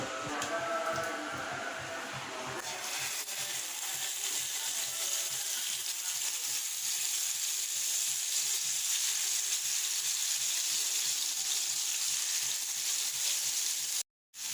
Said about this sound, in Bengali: তো এদিকে তো মাছ ভেজে নিচ্ছি